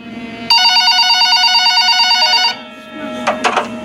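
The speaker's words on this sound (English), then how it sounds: "the phone on the counter rang." A telephone sound effect rings with one loud, continuous trilling bell for about two seconds, then cuts off, followed by faint room tone and a brief voice.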